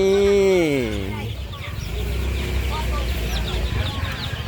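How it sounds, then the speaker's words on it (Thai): Chicks cheep at a busy open-air market, with a long rising-and-falling peep at the start and smaller chirps scattered over steady crowd noise. "ลูกเป็ด ลูกไก่ครับ"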